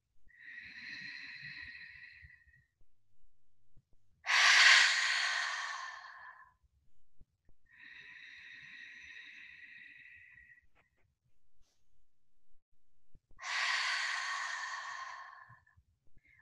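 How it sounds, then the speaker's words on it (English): Deep, slow yoga breathing from Kemetic Yoga practice: four long breaths in a steady alternating pattern, close and clear against near silence, with softer nasal inhales between louder, breathy exhales. "Wherever you are, keep breathing."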